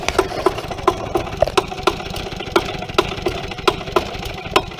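A Yamaha Tri Moto ATC engine runs on after shutoff with a dieseling, detonating knock, sharp irregular pops punctuating a rough mid-pitched idle, close and fairly loud with no talk.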